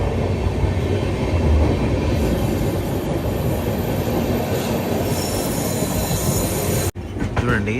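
The Telangana Express, train 12723 from Hyderabad, rolls into New Delhi railway station from inside a first-class coach, with a loud continuous rumble and squealing wheels that ends in a sudden cut near the end.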